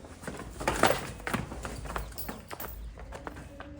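Hoof steps of a pregnant buffalo heifer being led on foot, a few soft uneven clops close by with some background rustle.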